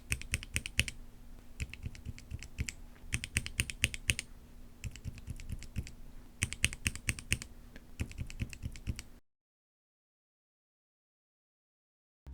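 Mechanical keyboard fitted with Gateron North Pole V1 and V2 switches typed on in bursts, a rapid patter of muted, bassy clacks with short pauses between runs, close and alone, ending in silence.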